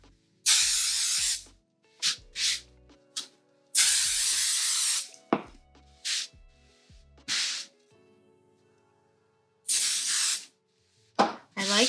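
Aerosol spray hisses onto quilting fabric in a series of bursts of varying length, some long and steady, others short puffs, close and loud with quiet gaps between, while sewing a witchy hat.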